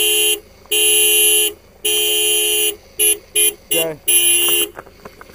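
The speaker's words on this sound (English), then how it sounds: "You can beep, you can try if you want." A car horn blasts repeatedly while the vehicle is stuck: several long loud honks followed by a burst of short quick beeps, close and harsh, with a brief word spoken between them.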